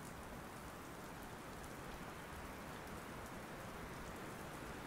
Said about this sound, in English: There is a little drizzle in the air, and a gusty breeze makes it feel more like proper rain.